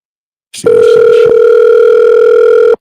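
A loud, steady telephone dial tone starts abruptly after a brief click and holds unbroken for about two seconds while a call is being placed, with no voices over it.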